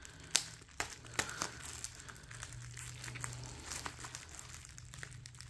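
A grey Samsung Galaxy Z Flip 4 package, bubble-wrapped, heavily taped and marked fragile, being opened: close crinkling and rustling of plastic wrap and tape with a few sharper crackles and tugs, no talking.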